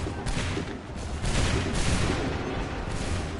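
Musket volley fire in Assassin's Creed 3, a dense, continuous crackle of many shots blending into a loud sustained roar throughout, with no clear pauses between reports.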